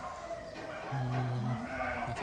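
Sheep in a livestock barn at Issyk-Ata, with one clear, fairly close bleat in the middle and a fainter one at the end over steady background noise.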